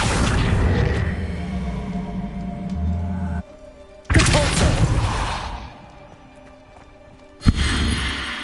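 Confringo fire blast spell explosions in the game Hogwarts Legacy: a loud whooshing burst with a deep booming thud, then another sharp blast, over a steady low game ambience.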